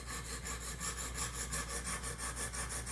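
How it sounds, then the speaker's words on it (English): A knife edge is drawn across Wicked Edge Gen 4 sharpening stones in quick, even back-and-forth scrubbing strokes, about five per second, producing a close, dry, rasping scrape with no talk. "I can scrub real quick just to make it pretty, all lined up."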